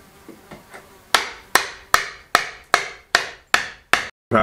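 Eight sharp, evenly spaced whacks against an awkward piece of firewood at an old rural finca, each crack loud and close with a short ringing decay, after a few softer knocks.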